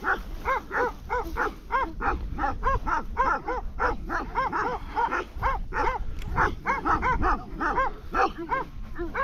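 Sheepdogs bark at a sheep farm in Satulung, Maramureș, Romania: a dense, nearly continuous run of rapid, fairly close barks from several dogs, with faint background noise and no clear talk.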